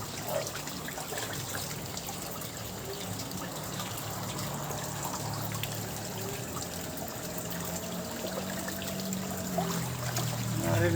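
Floodwater rushes in a fast, knee-deep current, a constant dense wash of flowing water that swells slightly louder near the end.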